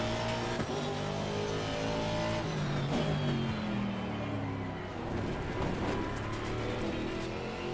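A race car engine roars in a sim racing game over a 50-minute race, revving and shifting pitch up and down through gears, loud and close, with brief tire noise and no talking.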